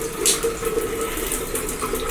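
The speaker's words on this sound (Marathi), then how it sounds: "गरम पाणी यायला सुरुवात झालेली आहे आता." Hot water runs steadily from the tap of a newly installed water heater, a continuous close hiss and splash with no pauses.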